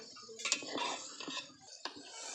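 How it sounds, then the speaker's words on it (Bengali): A spoon scrapes and knocks gently against a pot while khichuri of lentils, rice and meat is stirred, giving soft, irregular clinks and scrapes at close range. "একটু হালকা নাড়া দিয়ে নিতে হবে।"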